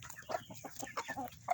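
An angry hen named Thelma clucks in a short, agitated burst of repeated calls, close by in a backyard flock of chickens, with no talk over it.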